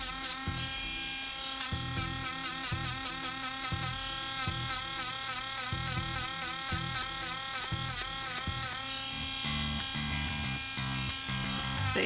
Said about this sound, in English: So when you Dremel, what it's doing is kind of globbing up those pieces and peeling and flaking them off